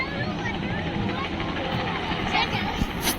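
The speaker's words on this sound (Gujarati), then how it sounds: "ત્યાં ગયા તો જુઓ હેલિકોપ્ટર તો ફરે છે" A helicopter's rotor thrums steadily overhead, blending with the murmur of a crowd.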